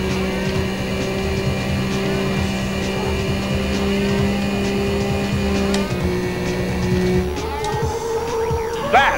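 A race car engine in Need for Speed: High Stakes drones steadily at high revs near the finish line, pitch stepping down as gears change, with a rising whine and skid toward the end.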